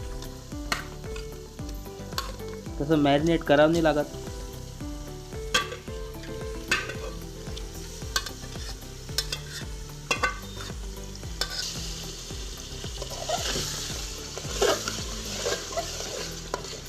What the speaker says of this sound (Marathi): आता त्यात आपण चिकन टाकून देऊ मसाल्यामध्ये मॅरिनेट केलेलं